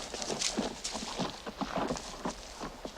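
Horse hooves clip-clop at a steady walking pace in a cartoon western soundtrack, a continuous run of hollow knocks over background music and ambience.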